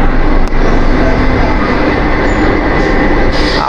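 A Kolkata Metro train runs between Dakshineswar and Dum Dum Cantonment, a loud, continuous rumble and rattle of wheels on rails heard from inside the car, with a faint squeal near the end and no speech.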